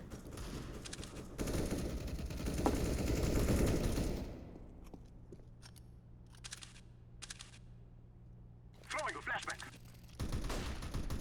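Rapid bursts of automatic gunfire ring out during a CS:GO match, with dense volleys early on and then shorter separated bursts, while players talk over the shooting.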